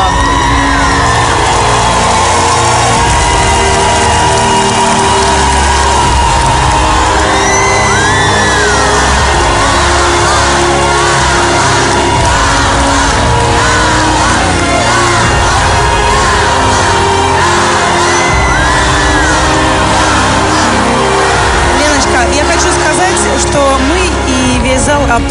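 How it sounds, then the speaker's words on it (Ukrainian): A talent show audience rises in a standing ovation, a loud, continuous roar of cheering, whooping and shouting with applause that fills the hall throughout at full intensity. "Зал аплодировал вам стоя."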